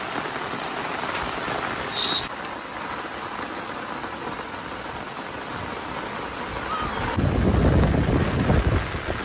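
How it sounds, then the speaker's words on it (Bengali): Heavy rain pours steadily in a rural setting, a constant dense hiss of drops on surfaces that swells louder near the end, with no voices. "বৃষ্টি এত বৃষ্টি হচ্ছে"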